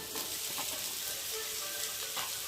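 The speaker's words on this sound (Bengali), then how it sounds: "ওর উপরে আমি দিয়ে দেবো এখন ঝুড়ুট করে কেটে রাখা আলু" Chopped potatoes going into onions already frying in a pan for a spicy semolina dish, giving a steady, soft, crackling sizzle with faint stirring, close and without talk.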